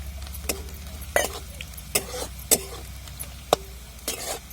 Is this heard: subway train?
no